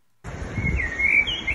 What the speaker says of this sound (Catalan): sempre sent un ocell que fa la mateixa melodia i finalment va aconseguir enganxar-lo